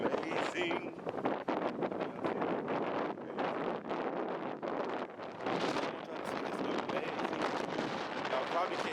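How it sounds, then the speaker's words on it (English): Strong wind buffets the microphone near crashing ocean waves on a summer shoreline, a loud continuous roaring rumble with gusty swells that masks a voice speaking underneath throughout. "Y'all probably can't hear anything that I'm saying because the wind is so loud."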